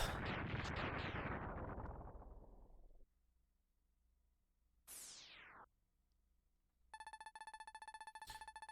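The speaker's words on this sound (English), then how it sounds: "What was that explosion?" A crunchy retro explosion bursts loudly in Mega Man X3 and decays over about three seconds, followed by a short descending sweep and then a rapid pulsing electronic alarm tone.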